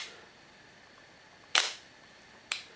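A Zenit E film camera's shutter fires open and then locks, giving two sharp mechanical clicks about a second apart, the first louder, close up against a quiet room.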